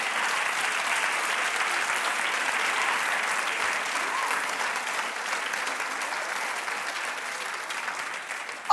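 A television talk-show studio audience claps in a dense, sustained wave of applause that stays even and moderately loud throughout, with no voices over it.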